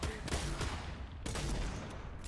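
Rapid gunfire bursts from the Fortnite video game during an in-game event, two loud broadband volleys over constant busy game noise.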